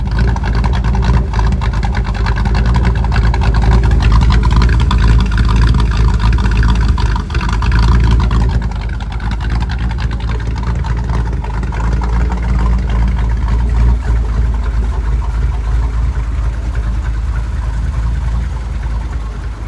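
A truck engine idling close by, a loud continuous low rumble with a steady throb that dips briefly and then settles again, with no voices.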